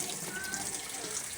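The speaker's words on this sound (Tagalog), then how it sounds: "Patay mo muna ang tubig." A household tap runs steadily into a sink, a close, continuous hissing stream of water with faint splashing throughout.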